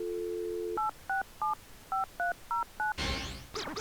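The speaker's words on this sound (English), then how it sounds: "What does it sound like when you dial 867-5309?" Telephone keypad tones dialing 867-5309: a brief steady tone, then seven short evenly spaced two-pitch beeps, followed by a burst of handset noise as the line connects.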